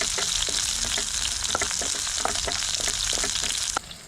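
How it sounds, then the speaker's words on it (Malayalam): Onions and seven small shallots sauté in a pan, a dense, close sizzle broken by frequent scraping stirs from a spatula, continuous and fairly loud. "അതും കൂടി ഇട്ട് കൊടുക്കാം. എല്ലാം കൂടി നന്നായിട്ടൊന്ന് വഴറ്റിയെടുക്കാം."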